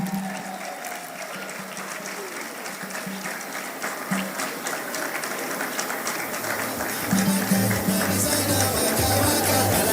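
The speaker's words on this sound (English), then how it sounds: "with a round of applause, I would love for you to welcome Senator Dino Melaye" An audience at a school graduation and prize-giving ceremony in Abuja breaks into sustained applause to welcome Senator Dino Melaye, a steady wash of clapping that swells louder toward the end.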